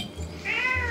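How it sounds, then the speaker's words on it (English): A cat on a front porch lets out a drawn-out, rising meow, close and fairly loud over faint background noise. "There's a kitty on the front porch."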